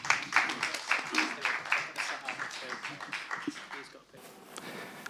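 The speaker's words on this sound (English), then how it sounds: "please give them a round of applause," Audience applause at a maker showcase event, a burst of clapping that starts strong and gradually thins out over several seconds, fairly close, ending in quieter room noise.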